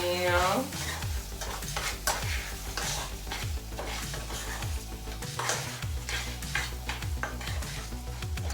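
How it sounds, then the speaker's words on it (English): Rice gets stirred in a hot pan until coated, a steady sizzle broken by repeated scraping strokes and light clinks of a utensil against the pan, with no talk. "I'm just gonna stir it until it gets all coated, nice and coated."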